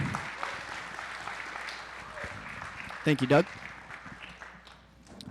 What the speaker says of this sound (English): Let's give a huge round of applause for them.